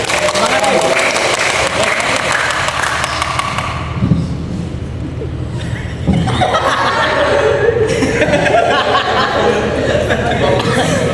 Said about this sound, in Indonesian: Tepuk tangan lu, tepuk tangan lu.